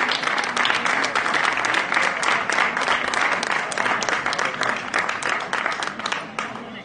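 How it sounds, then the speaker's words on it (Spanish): Protest crowd at a Murcia rally against the railway walls applauding Alberto, who organised the match: steady, loud, sustained clapping from many people throughout, easing slightly at the end. "a mí me gustaría que le digáis un aplauso a Alberto"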